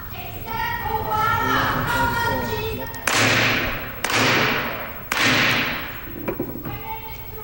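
A gavel banged on the House floor, three sharp, loud wooden strikes a second apart, each ringing out in the large chamber, with a voice speaking before and after.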